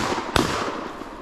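A single sharp shotgun blast rings out during a woodcock hunt in November woodland, one abrupt crack over steady outdoor background noise.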